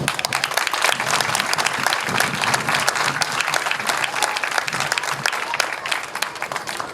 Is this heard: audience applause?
yes